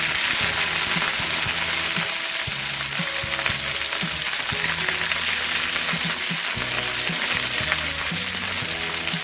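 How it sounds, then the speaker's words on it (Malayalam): Cut okra frying in oil in a pan for Vishu sambar, a steady dense sizzle with occasional stirring scrapes, close and continuous with no talking. "ഇതിനകത്തേക്ക് ഞാനിവിടെ കട്ട് ചെയ്ത് വെച്ചേക്കണ വെണ്ടയ്ക്ക ഇട്ട് കൊടുക്കുന്നുണ്ട്."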